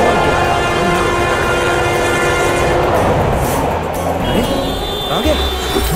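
Metro train running on a 45-kilometre urban line, a continuous loud rumble with clattering wheels and a tonal horn-like whine, heard under talking throughout.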